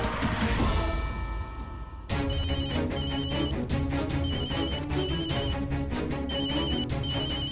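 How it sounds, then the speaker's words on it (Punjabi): A telephone rings with a repeating electronic ringtone in a domestic TV serial scene. It follows a short dramatic musical sting and keeps sounding in steady, evenly spaced bursts with no talking. "ਭਾਂਜੇ ਦਾ ਫੋਨ।"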